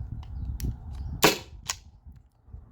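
Byrna SD launcher fired on an 8-gram CO2 cartridge, giving one sharp, loud pop with a bright hiss tail, framed by smaller clicks before and after.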